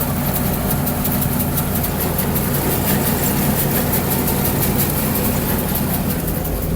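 A combine harvester threshing wheat and barley in a field drones loudly and continuously, its engine labouring under load on a slight uphill with a dense, steady roar and mechanical rattle throughout.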